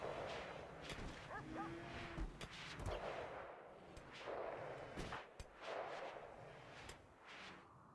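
Faint, distant gunshots from the RimWorld colony game pop sporadically against a low background hum, several scattered reports spread over the stretch with no one speaking over them.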